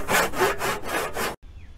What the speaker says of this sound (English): Regular handsaw allows me a little more control and able to keep it level.